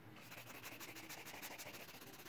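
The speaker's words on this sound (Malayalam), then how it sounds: "ക്രയോൺസ് ഇങ്ങനെ ചെരിച്ച് വെച്ച് വരച്ച് കഴിഞ്ഞാൽ പെട്ടെന്ന് നമുക്ക് ഷെയ്ഡ് ചെയ്ത് കിട്ടും" Crayon tilted on its side and rubbed back and forth across paper for shading, a soft, steady, faint scratchy rasp repeating in quick even strokes with no voices.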